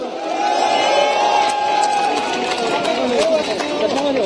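A large crowd at a nighttime candlelight protest rally in Seoul cheers and claps continuously, with shouts and whoops rising above the dense, steady roar.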